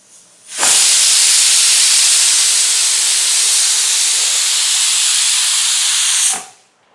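A pressure cooker holding green peas, cooked to two whistles, has its steam let out in one loud, continuous hiss that starts abruptly, holds for about six seconds and cuts off, with no talk.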